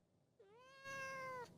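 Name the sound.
cat meowing into the microphone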